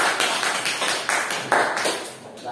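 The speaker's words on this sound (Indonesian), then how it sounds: "tepuk tangan untuk kelompok Mas Razi" Classroom applause for a student group, a short burst of rapid, close clapping from several hands that fades quickly.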